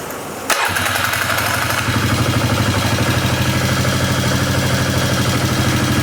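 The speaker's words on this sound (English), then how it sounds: "Just a little lifter noise." A Polaris 325/330 Magnum ATV engine cranks and catches, then settles into a steady, throbbing idle with a fast, light lifter ticking running through it.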